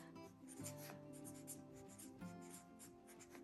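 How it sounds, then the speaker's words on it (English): A pen writes in a homeschool planner book, making faint scratchy strokes in short runs over a soft, steady tonal background. "So let me write"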